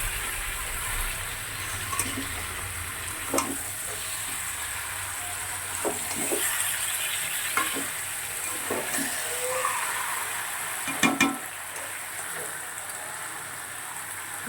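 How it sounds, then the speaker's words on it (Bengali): Chicken curry with large potato pieces stir-frying in a pan, a soft continuous sizzle broken by intermittent spatula scrapes and knocks, with one sharper double clatter near the end. "এবারে ভালো করে 5 থেকে 7 মিনিট তো কষাতেই হবে।"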